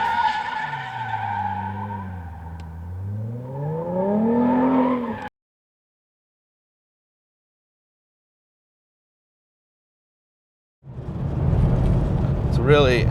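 A 2011-2014 Ford Mustang GT with a Borla exhaust rises through a loud, sweeping engine note and tire chirp, then silence falls for several seconds before a rough, noisy burst of exhaust and road sound returns near the end.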